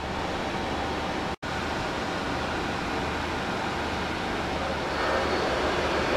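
A Windows Server 2003 domain controller with a RAID array running as it shuts down: a loud, steady broadband fan roar fills the space, broken once by a split-second dropout.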